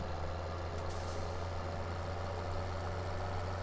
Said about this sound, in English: we're gonna go into this tractor here and stop him